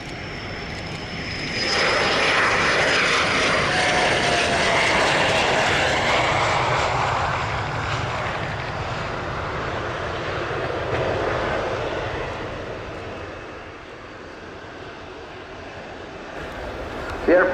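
Messerschmitt Me262 jet fighter flying a display at a UK airshow, a loud sustained engine roar that swells and fades as it passes, with a commentator talking over it.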